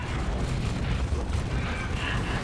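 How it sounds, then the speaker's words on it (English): Tyranid Warriors fire venom cannons in the video game Dawn of War, a dense, steady barrage of booming, crackling shots and battle noise that blurs into continuous combat din. "Warriors opening fire."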